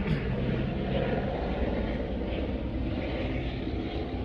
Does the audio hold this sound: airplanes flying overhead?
yes